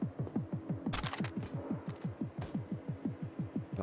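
Sustained rapid automatic gunfire in Cyberpunk 2077, with regular evenly spaced shots in a steady rhythm, fairly near and continuous across the whole stretch with no talking.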